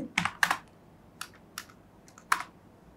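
Keys tapped on a computer keyboard while entering CSS code, a few crisp clicks in short bursts with pauses between, close and clear with no talking.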